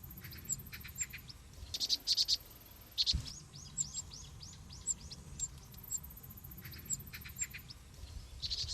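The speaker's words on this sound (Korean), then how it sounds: "바로 새끼 뻐꾸기입니다" High, thin repeated begging calls from a cuckoo chick raised by vinous-throated parrotbills, coming in short bursts over a steady background of other birds and insects.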